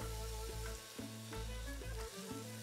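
Berkoukes pasta sizzling loudly in olive oil as liquid is poured in and stirred, a close, dense crackling hiss with rhythmic surges from the stirring.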